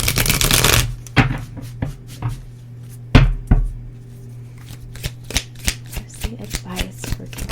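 Tarot cards being shuffled up close, an opening riffle followed by a series of crisp, separate card slaps and flicks that come more often toward the end.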